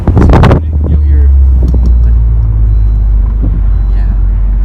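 A 2018 Honda Civic Si fitted with a GReddy Supreme SP exhaust gives a loud, deep engine note that holds steady and close throughout, under wind buffeting, with a brief burst of voices at the start.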